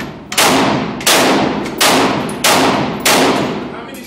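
Five loud gunshots fired at a shooting range, spaced roughly two-thirds of a second apart, each a sharp close crack with a decaying tail that rings into the next.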